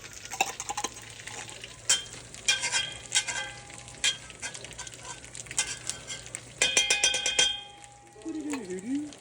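Tomato paste stirred into a frying pot for thieboudienne, the West African fish and rice dish, with a steady sizzle under repeated scraping and clinking of a spoon against the pan, while a voice talks intermittently.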